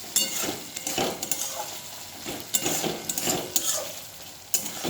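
Fish oil chorchori with potato and eggplant being stirred in a pan, with repeated scraping and clinking of a spatula against metal over a soft sizzle, close and unaccompanied by talk.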